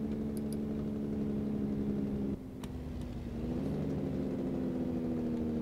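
A heavy truck's engine droning steadily in American Truck Simulator, with the low exhaust brake rumble dipping briefly and then returning at a slightly shifted pitch, loud and continuous.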